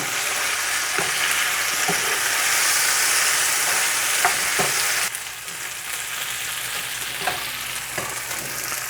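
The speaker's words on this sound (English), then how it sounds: "and then you're gonna stir." Curry chicken feet sizzle and fry in a pot while being stirred, a dense steady hiss with scattered scraping knocks, loudest early and then dropping to a softer sizzle partway through; close and with no voices.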